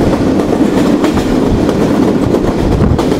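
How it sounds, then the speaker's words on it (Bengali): Kapotaksha Express, a broad-gauge train, taking a curve, with a loud, steady rolling rumble and rhythmic clickety-clack of wheels close by, no voices. "কি সুন্দর একটি কার্ভ নিচ্ছে আমাদের ট্রেন।"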